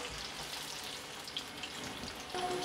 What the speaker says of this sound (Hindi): गैस की फ्लेम मीडियम करके हम इसे फ्राई करेंगे